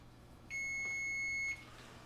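A kitchen oven timer gives a single steady electronic beep lasting about a second, clear and close against faint room hum, signalling a pizza has finished baking.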